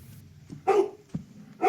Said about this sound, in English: This dog is making quite a racket.